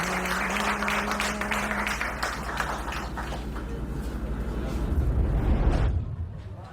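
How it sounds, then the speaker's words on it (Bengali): A gathering claps again to welcome a young man who placed first in a two-month training course. The clapping is a steady crowd patter over a low, rumbling background, swelling briefly near the end before fading. "সবাই আরেকটা করতালি।"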